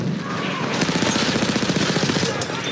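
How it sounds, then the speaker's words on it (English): Fast machine gun fire in Battlefield 1 Conquest, a sustained rapid burst of evenly spaced shots over a loud battlefield din, with a voice speaking nearby. "Machine gun over there."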